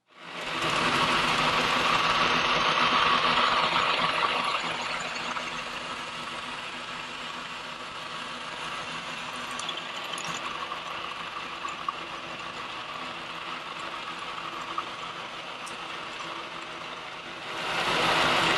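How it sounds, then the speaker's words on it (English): A milling machine cuts a groove into a steel wrench, producing a steady, close whirring and grinding hum that holds for most of the time, louder at the start and swelling again at the end. "So we'll touch off and we'll cut this groove."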